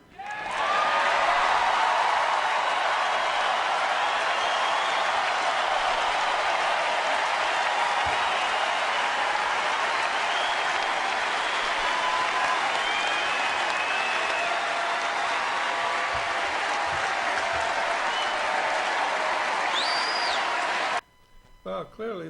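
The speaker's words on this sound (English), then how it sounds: "clearly there's a lot of applause here" Sustained crowd applause at a political convention, dense and steady for about twenty seconds with cheering mixed in, cutting off abruptly near the end.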